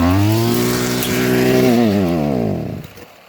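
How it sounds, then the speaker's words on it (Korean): Brush cutter engine running at high revs, a buzzing harmonic drone that holds steady, then drops in pitch and winds down to silence within a few seconds, close by and alone. "무조건 잡은 상태에서 여기 있는 시동줄을 당긴다."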